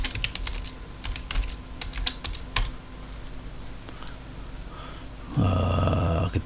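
Fingers tap a computer keyboard at a digital amateur radio station, making a scattered run of light, close clicks, followed by a loud burst of warbling digital radio tones.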